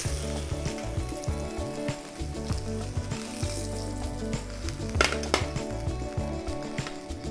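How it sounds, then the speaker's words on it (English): Blackened Cajun salmon searing skin-side in a hot pan, with a dense, crackling sizzle and frequent spitting pops and taps, close and loud throughout, and no talking. "now I'm just gonna crisp up the skin, and then I'm gonna finish it in the oven"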